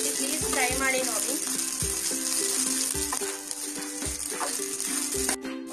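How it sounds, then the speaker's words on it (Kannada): Green chillies frying in a pan give a steady, loud sizzle that runs throughout, with occasional rattles and stirring scrapes and a voice talking faintly underneath. "5 ನಿಮಿಷ ಹೀಗೆ ಫ್ರೈ ಮಾಡ್ಕೊಳ್ಬೇಕು."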